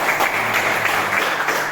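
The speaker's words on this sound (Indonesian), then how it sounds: "Nggih, tepuk tangan." Classroom applause from a group of students, brief continuous clapping held at an even level throughout, fairly loud with no voices on top.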